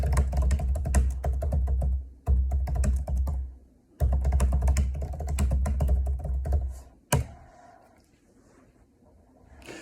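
Dense, steady keyboard typing at close range, running in long bursts broken by brief pauses, then thinning out to a quieter stretch near the end.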